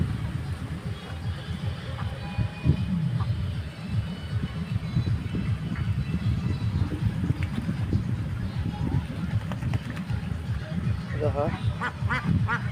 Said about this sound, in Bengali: এখানে হলো হাঁস, তাকে সারিবদ্ধ সবগুলো হাঁস আসতেছে। তো এগুলো দেশি হাঁস।